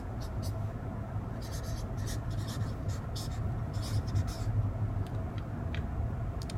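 A pen or marker scratches out an equation in a series of quick, close strokes with short pauses between them, set against a low background rumble.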